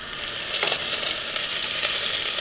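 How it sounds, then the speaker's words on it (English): Onions sizzle in a thick-based Shuttle Chef pot while being stirred for chilli con carne, a steady close hiss with occasional scraping stir sounds and no voices. "It's going to start pretty easy with some onions in the pan. I'll even stir them up."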